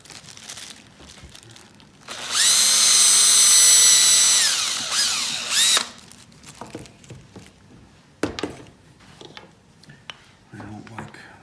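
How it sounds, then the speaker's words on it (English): A power drill with a bigger drill bit bores into a small figure toy for about four seconds, loud and whining, with quieter handling noises and voices before and after. "get a bigger drill bit"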